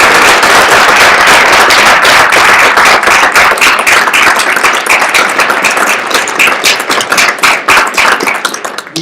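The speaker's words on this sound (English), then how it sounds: "I think our panel deserves a round of applause" An audience at an LGBT impact investing event applauds the panel with loud, dense clapping that slowly thins into scattered, sharper individual claps toward the end.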